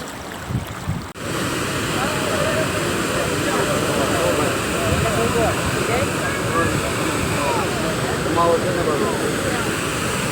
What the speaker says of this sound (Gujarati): હા, જમજીર ધોધ છે.